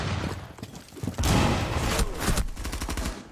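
Rapid automatic gunfire rattles in a ranked first-person shooter match, with the bursts building into a dense, sustained volley. Several sharp separate shots and a low boom come in close, with no talk over them.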